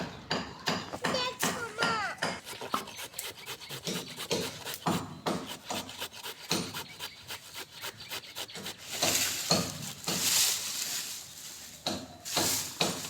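A machine chops carrots in repeated rapid bursts of scraping and knocking, steady and close throughout, with no talk.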